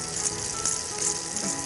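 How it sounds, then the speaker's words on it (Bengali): Turmeric paste sizzling and frying in a hot pan on a Bengali kitchen stove, a steady close crackle with brighter spits, no voices. "হলুদ বাটা দেওয়া হলো, বাঁধাকপিটা দিতে।"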